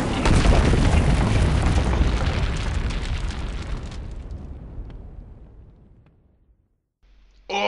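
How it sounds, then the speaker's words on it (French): A huge iron box crashing down from the sky lands with a massive booming impact and a long rumbling roar that slowly fades into near silence, then a sudden short burst of noise at the end. "Ça alors, une énorme boîte en fer. Tout droit descendu du ciel."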